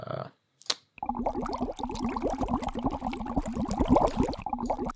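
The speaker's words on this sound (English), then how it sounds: "something like bubbles, right?" Water bubbling steadily for several seconds as a Foley sample, a dense, rhythmic gurgle of bubbles close to the microphone, heard alone after a brief quiet start.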